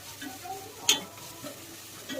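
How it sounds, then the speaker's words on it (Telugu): Ginger garlic paste fries in a pan while being stirred, a close, low sizzle broken by one sharp spoon clink against the pan, with no voices. "ఇది అల్లం వెల్లుల్లి మంచిగా ఫ్రై అయ్యేదాకా మనం మిక్స్ చేస్తాము."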